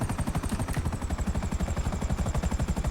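A helicopter lifting off in GTA 5 gives a loud, fast, rhythmic rotor chop that pulses evenly throughout, with a thin steady whine above it and no talking.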